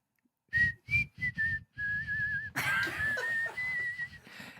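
A woman's palate whistle, produced while she smiles, gives a run of clear, bright whistled notes. Short separate bursts lead into a longer sustained melody that becomes more breathy and noisy toward the end, close to the microphone and heard alone.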